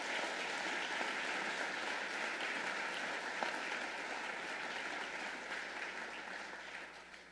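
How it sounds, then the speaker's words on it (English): Applause from the audience at a mayor's State of the City address, a steady continuous wash of clapping heard at low volume that slowly tapers off over several seconds. "Let's give young Arrington another round of applause."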